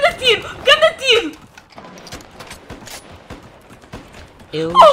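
Rapid gunfire in a shooter video game: scattered sharp shots crackle through the middle in quick, uneven bursts, with excited voices talking loudly before and after.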